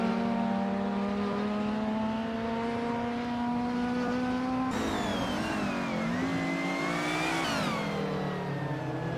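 Race car engines roaring at a race start in a racing video game: a steady high-revving drone, then a sharper shift near the midpoint into rising and falling revs from several cars close by, with no voices.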